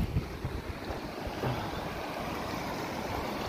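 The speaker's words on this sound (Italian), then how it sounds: "Quanta acqua, come scorre, chissà da dove viene tutta quest'acqua." Mountain stream water rushing along a hiking trail toward a refuge and lake, a steady broad roar close by, partly blurred by wind buffeting the microphone, no voices.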